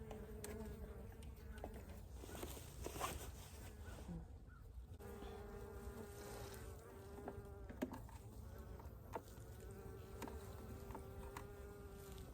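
Honey bees buzz steadily around a hive frame feeder filled with sugar syrup, a dense, continuous insect drone close by with no talking throughout.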